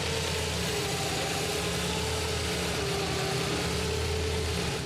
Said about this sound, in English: can we start the car now?